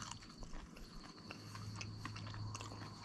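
Someone bites into crunchy, golden-brown fried fish cakes topped with a little lemon, giving a few quiet crisp crunches and chewing sounds over a low steady background hum, with no talking.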